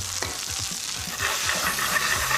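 Gnocchi sautéing in a hot pan, giving a steady close sizzle with repeated scraping and stirring clatter as the pieces are turned, no voices.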